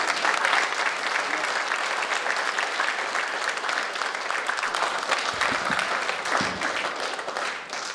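A hall audience bursts into sustained applause to welcome a Navy rear admiral at a formal event, steady dense clapping from start to finish with a few louder claps near the end.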